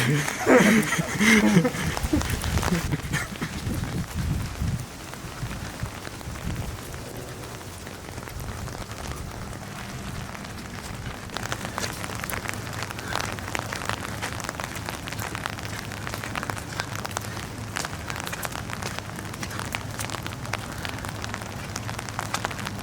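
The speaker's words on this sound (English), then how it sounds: "It's raining out here." Steady rain falls and patters on surfaces around the Bush family gravesite, a constant hiss throughout with a brief voice near the start.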